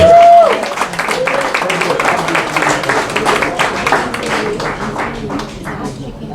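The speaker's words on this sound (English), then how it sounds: "let's give another hand of applause" An audience at an Omega Psi Phi fraternity Achievement Week awards ceremony claps in a lively burst of many hands that slowly thins toward the end, with voices mixed in.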